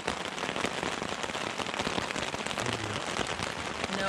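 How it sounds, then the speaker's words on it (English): Heavy morning rain on a Lake Superior road trip makes a dense, continuous patter and crackle of drops hitting surfaces, steady and fairly close with no voices. "It's very, very rainy this morning."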